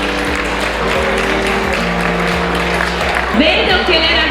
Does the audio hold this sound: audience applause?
yes